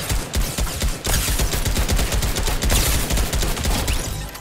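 Rapid automatic gunfire in Fortnite rattles out as a dense, loud string of shots, nearly continuous after a brief gap near the start.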